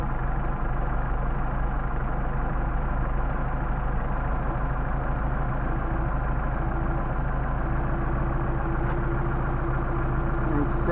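A Mercedes 190SL engine with Solex carburettors idling after the idle was raised, a steady low rumble holding even and close for the whole stretch.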